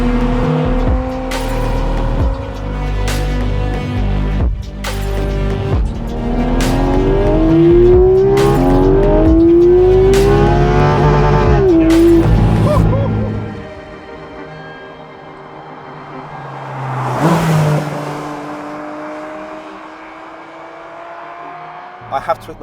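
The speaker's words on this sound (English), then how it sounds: "You could basically floor this thing now." Porsche GT4 RS Cayman engine revving hard at full throttle, loud and close, pitch sweeping up through the gears before easing off and falling away, with a second brief surge near the end; people talk over it.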